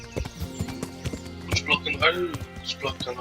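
A horse's hooves clip-clop in quick, uneven steps near a river in Kingdom Come: Deliverance, with a brief snort among the hoofbeats and someone talking over them.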